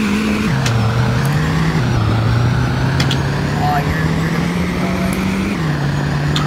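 A diesel truck with a four-speed gearbox pulls away at the start of a Roblox Greenville race. The engine drones loud and close, its pitch dipping and climbing through gear changes, with people talking over it.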